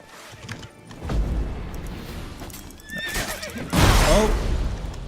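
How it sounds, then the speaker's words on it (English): A horse in The Witcher 3 video game whinnies loudly and gallops close by, with thudding hooves building through the clip and a second shrill neigh near the end, among game background noise. "The horse was like, none of that."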